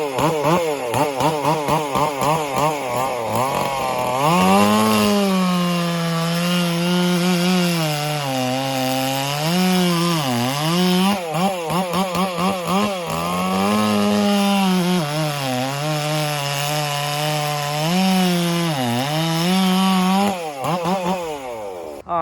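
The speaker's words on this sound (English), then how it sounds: "got some hickory here, and I've got the 572, 500i, 1700 Makita, the 460 Lite, Aaron Lance poured for me" Several chainsaws, a ported Stihl 460 Lite, Stihl 500i, Makita and Husqvarna 562 and 572, cut through hickory in a series of loud, close revving bursts, the pitch dipping as each bar bites into the wood and rising again between cuts.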